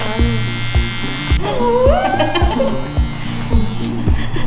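Electric clippers buzz steadily while shaving a baby's head at a baby spa, a close, loud hum with regular pulsing beats, joined by a brief higher wavering sound like a small whimper partway through.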